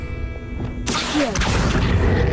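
A magical whoosh from the Accio spell in Hogwarts Legacy: a quiet lead-in gives way to a sudden loud rushing burst with brief swirling chirps, then a steady roar.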